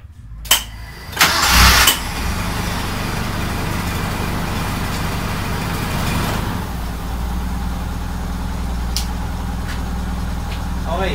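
A few clicks, then a Mitsubishi 4G13 car engine cranks and catches on the first try, settling into a steady low idle that runs on for several seconds.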